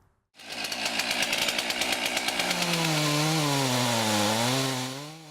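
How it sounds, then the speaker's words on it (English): A chainsaw starts up with a loud, rasping whine, then bogs down into a lower, strained pitch as it bites into a tree trunk, running steadily throughout. "The piercing whine of a chainsaw"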